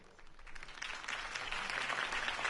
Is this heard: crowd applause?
yes